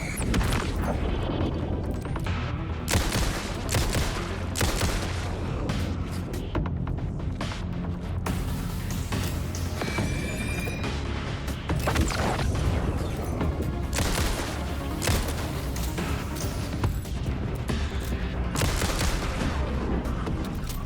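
Rapid bursts of gunfire from shooting in the video game Alan Wake 2, loud repeated shots in quick clusters with booming impacts and mechanical clicks, continuing steadily throughout with no talk.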